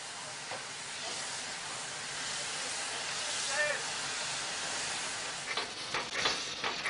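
DB class 44 steam locomotive working a heavy freight train at Ottbergen in the Weserbergland, heard as a steady loud hiss of steam with rolling train noise, and a few sharper chuffs and clanks rising near the end.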